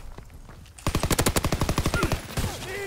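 A close, loud automatic-weapon burst from Call of Duty WW2 multiplayer, about fifteen evenly spaced shots in quick succession, followed by scattered game effects and a brief squeal.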